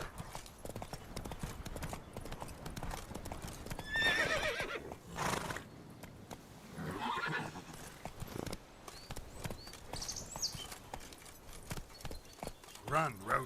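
Roach, a horse in The Witcher 3, gallops with rapid hoofbeats and snorts over game music and ambience, with a voice speaking in the scene.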